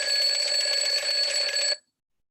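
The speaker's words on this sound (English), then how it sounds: "An alarm clock sounds." Alarm clock ringing, a loud, continuous, shrill metallic bell for just under two seconds that cuts off abruptly into silence.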